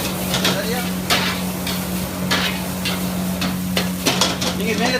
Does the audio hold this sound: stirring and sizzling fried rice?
yes